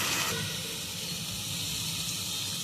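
Grated carrots cooking gently in a cup of milk for carrot halwa, a soft, steady hiss and bubbling simmer at low volume, continuous and alone without any talk.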